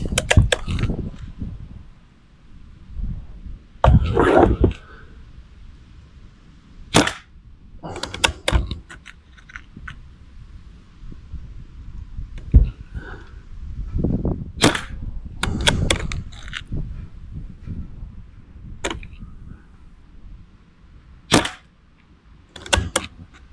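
Shots from an airgun at outdoor dynamite-style targets come as sharp, isolated cracks, roughly ten spaced irregularly with quiet gaps and faint rustling between, no talking.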